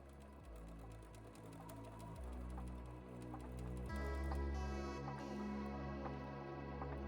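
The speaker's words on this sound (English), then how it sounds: "I sewed a little pleat into the ends of the webbing to secure everything." Fairly quiet sewing machine stitching a small pleat into the ends of bag webbing for a homemade bike bag, running as a steady rapid whir with a few short stops and restarts.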